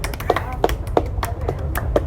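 Hand claps struck on cue in a steady rhythm, about six sharp claps spaced roughly a third of a second apart, close and moderately loud over a low background hum.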